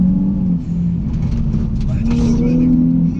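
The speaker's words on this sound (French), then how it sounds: "C'est magnifique d'avoir un Atmo sur cette voiture. Tu sens tous les tours minutes augmenter." Naturally aspirated engine of a Nissan 350Z humming loudly from inside the cabin, a steady low drone with rising tone as revs climb, heard under someone speaking.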